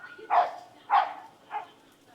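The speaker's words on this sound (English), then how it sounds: "Dog fight." Dogs fighting at a campsite give three short, yelping barks spaced about half a second apart, moderately close and standing out against a quiet background.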